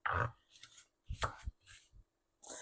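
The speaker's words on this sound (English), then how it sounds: "I'm just sloppy chopping, as y'all can see" Sloppy, quick knife chopping of onion for homemade sopa and chicken soup, several close, sharp cuts in uneven bursts on a cutting board, alone without talk.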